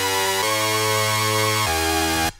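Native Instruments Reaktor Rounds' Blockbuster lead preset plays a bright, buzzy synth line, holding sustained notes that shift pitch twice, loud and alone with no voices, then cuts off at the end.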